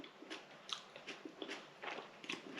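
A fresh tomato is bitten and chewed in a quiet room, giving soft, moist crunches and squishes at a steady chewing rhythm, faint and close.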